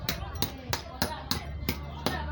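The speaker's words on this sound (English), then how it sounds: "Can you see the way I'm breaking the igneous rock into pieces?" A hammer strikes igneous rock to break it into pieces, with seven sharp, evenly spaced cracking impacts close by, each about a third of a second apart, over a low rumbling background.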